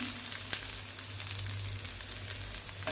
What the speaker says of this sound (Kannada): ಈರುಳ್ಳಿ ಬೆಳ್ಳುಳ್ಳಿ ಚೆನ್ನಾಗಿ ಫ್ರೈ ಆಗಿದೆ ಇವಾಗ ತೆಂಗಿನಕಾಯಿ ಹಾಕ್ಕೊಂಡು ಇಟ್ಕೊಳ್ಳೋಣ